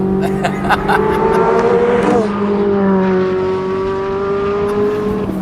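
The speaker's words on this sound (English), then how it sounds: "It's just like a Ferrari V8, naturally aspirated, but with slightly more bass." Naturally aspirated V8 sports car engine with a Ferrari-like tone, loud and near, a steady high drone that shifts pitch midway as the revs change, with no talk.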